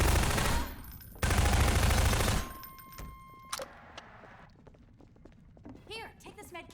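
Rapid bursts of automatic gunfire in Half-Life 2, loud and dense for about two seconds, then scattered shots, clanks and footsteps as voices talk and call out in the background.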